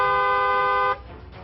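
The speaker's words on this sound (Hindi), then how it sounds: "इसके लिए हॉर्न बजाना भी जरूरी है" A car horn sounds one loud, steady blast lasting about a second, then cuts off, leaving faint background street noise.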